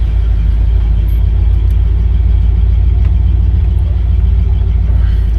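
A 1968 Cadillac DeVille engine rumbles steadily at close range, a low continuous drone with no clear braking squeal or distinct stops.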